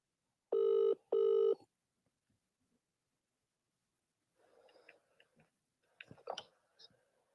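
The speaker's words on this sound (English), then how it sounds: "Let's see if he answers the phone." Two loud, even ringback tones sound on an outgoing phone call, followed by faint clicks and handling noises as the line picks up.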